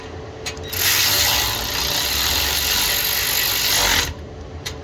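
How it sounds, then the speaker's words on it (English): An 8mm socket on a ratchet tightens a plastic part of the active exhaust valve on a Dodge Hemi, giving a steady close rasping, clicking whir that runs for about three and a half seconds, then stops. "And we'll secure this back down with the 8mm."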